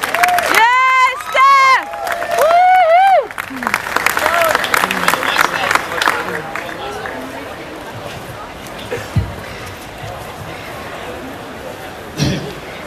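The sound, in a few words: crowd clapping at rally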